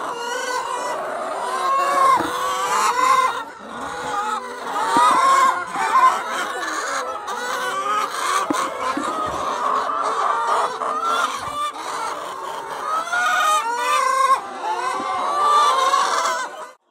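Hens clucking and cackling continuously inside a chicken shed, many birds overlapping at close range with occasional louder squawks and a crow-like call, with no talking.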